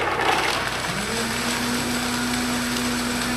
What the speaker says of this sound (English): I'm going to blend this up.